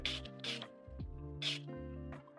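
Vice 24HR Lock setting spray is misted over makeup swatches on a hand in short hissing bursts, close and soft, over a low steady background hum.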